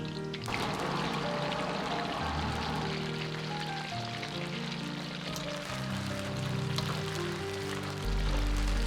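Pork pieces deep-frying in hot oil in a wok, a dense bubbling crackle after the meat drops in, steady and close with a sudden louder surge near the end, no voices.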